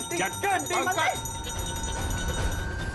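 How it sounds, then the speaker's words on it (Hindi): A bell rings in a TV crime-drama scene, its sustained, ringing tone hanging on after a short burst of voices at the start. "घंटी।"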